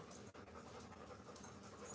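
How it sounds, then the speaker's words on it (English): A frightened dog panting quickly and steadily during a storm, soft, close and fairly quiet, with a short pause partway through and no talking. "Our dog does not like storms. She's down here giving herself a heart attack. You might be able to hear her panting."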